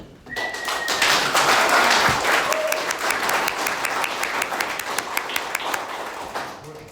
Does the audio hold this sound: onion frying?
no